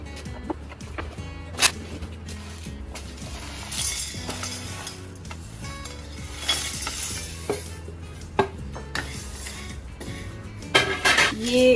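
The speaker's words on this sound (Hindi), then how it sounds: "सबसे पहले हम जो अपने मसाले जो मैंने आपको बोला ड्राई रोस्ट करने हैं वो ड्राई रोस्ट कर देते हैं।" Whole biryani spices dry roasting in a pan, with scattered clinks, taps and scraping as they are stirred, plus occasional sharper knocks of a utensil against the metal over a low steady background.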